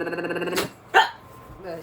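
A single sharp sneeze bursts out near the microphone amid voiced sounds, followed by a brief quieter vocal noise.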